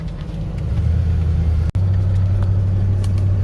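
An OBS Ford truck on new 37-inch Toyo tires drives along with a steady, close low engine and road rumble, cut by a brief dropout midway, then a firmer drone.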